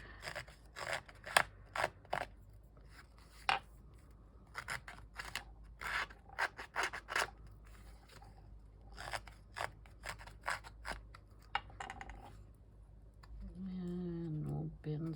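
A Tim Holtz distressor tool scrapes down the edge of paper for a Halloween accordion journal, making short, dry rasping strokes in quick irregular bursts that are close and quiet. A voice starts at the very end.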